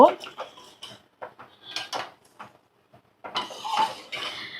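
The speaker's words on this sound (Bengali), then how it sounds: "এবার আমি ভালো করে নাড়াচাড়া করে নেব" A spoon stirs milk in a pot over low flame for vermicelli payesh. Intermittent scrapes and clinks of metal against the pot break off with short pauses, and a voice briefly sounds in between.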